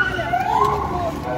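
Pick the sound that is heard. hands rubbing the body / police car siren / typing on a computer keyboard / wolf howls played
police car siren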